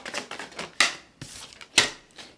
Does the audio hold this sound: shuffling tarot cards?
yes